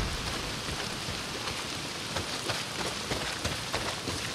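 Rain in the video game Days Gone, a steady moderate downpour hissing on surfaces with scattered distinct drop impacts, continuous throughout with no voices.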